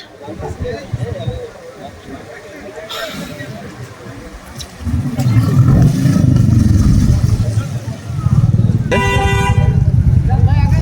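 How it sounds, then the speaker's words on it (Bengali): A Royal Enfield Bullet motorcycle pulls away on a test ride, its low engine thump swelling louder partway through, while car horns toot and traffic rumbles around it. "এই যে ভাইয়া চলে গেল রয়্যাল এনফিল্ডের বুলেট।"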